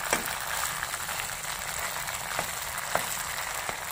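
Hand-battered pabda fish frying in a small amount of oil gives a steady soft sizzle with occasional faint pops and crackles.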